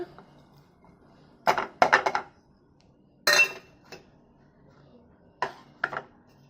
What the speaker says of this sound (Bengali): ছানাটা আমি মিক্সির জারে নিয়ে নেবো